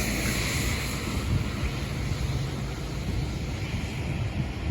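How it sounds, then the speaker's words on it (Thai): Floodwater from the overflowing Chi River rushes past during storm Noru, a steady, loud roar of churning water with wind buffeting the microphone throughout. "ความแรงความเร็วของน้ำเป็นยังไงดูครับความเชี่ยวครับไหลเชี่ยวมากๆครับ"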